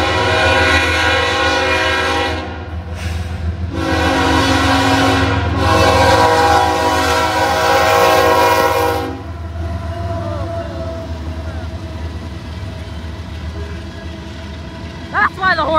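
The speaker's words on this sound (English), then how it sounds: "We got a train coming, and the horn has a fouled K5HL." A Norfolk Southern ES44AC freight locomotive running long hood forward sounds its K5HL horn with a fouled, sour chord in several long blasts over the rumble of the passing train, near and loud, then the rolling wagons continue after it stops.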